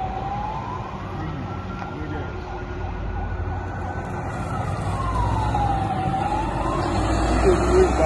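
A wailing emergency siren rises and falls slowly, sounding moderately distant, over a low rumble of traffic.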